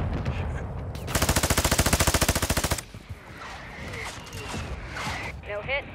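A rapid machine-gun burst in Warzone 2.0 on Ashika Island, loud and evenly paced for about two seconds, followed by scattered distant shots while players talk.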